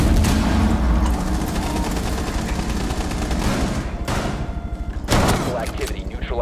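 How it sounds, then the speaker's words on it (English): Frag grenade thrown and bursting amid sustained automatic gunfire in a tactical shooter video game, loud dense firing throughout with a heavy blast near the end, voices calling out over the din. "Throwing frag grenade!"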